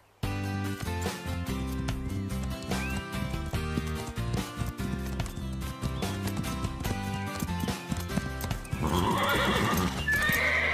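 Restless, agitated horses whinny and neigh over steady clip-clopping hooves, close and loud throughout, with a dense stable-like bustle and a brighter burst of neighing toward the end.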